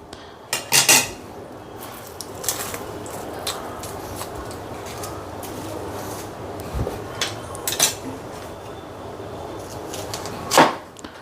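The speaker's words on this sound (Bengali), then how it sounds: "এ দেখুন পেঁয়াজটাকে কেটে নিলাম এরকম করে" A knife cuts an onion in two in a home kitchen, with a few sharp taps and knocks against a board. Scattered soft clatter fills the gaps between them.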